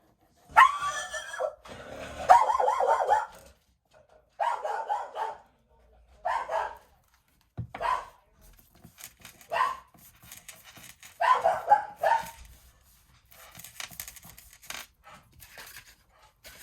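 A dog barks indoors during a craft session, a series of short, sharp barks repeating in bursts over several seconds, moderately close, with brief pauses between them and no talk over it.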